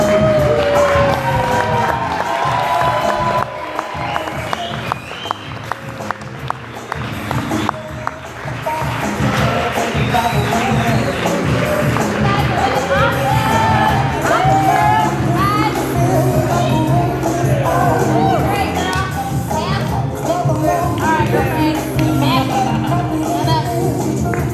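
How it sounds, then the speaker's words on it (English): Wedding guests cheer and applaud as the bridal party enters, a steady crowd roar with claps and whoops sustained throughout, with some talk mixed in. "Please put your hands together for your whole party coming in."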